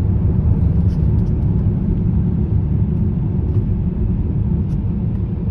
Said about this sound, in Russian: Ребят, дикая пробка просто на МКАДе.